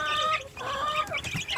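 Indonesian free-range village chicks in a brooder box peep continuously in high, overlapping chirps, close and moderately loud, with a few rougher clucking notes mixed in.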